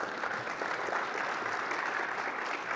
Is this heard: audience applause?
yes